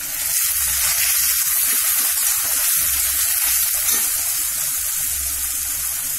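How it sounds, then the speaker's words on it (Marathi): Finely chopped medium onion and tomato frying in hot oil in a pan, a loud, continuous close-up sizzle with a low rumble underneath and no speech. "मीडियम साईजचा जो कांदा बारीक चिरला होता तो टाकूया. त्याच्यासोबत टोमॅटो चांगलं परतून घेऊ आपण."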